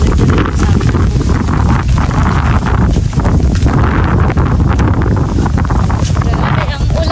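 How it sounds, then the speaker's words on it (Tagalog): Heavy rain and strong wind buffet the microphone in a steady, loud roar with gusty low rumbling, a voice talking intermittently over the storm. "Grabe ang ulan, ang hangin."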